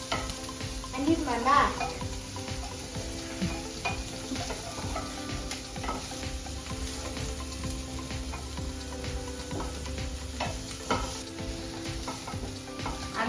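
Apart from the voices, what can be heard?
chopped onions frying and being stirred in hot oil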